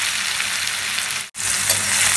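Potato and eggplant pieces seasoned with salt and turmeric fry hard in hot oil, a dense, steady sizzle close to the pan with one brief cut near the middle.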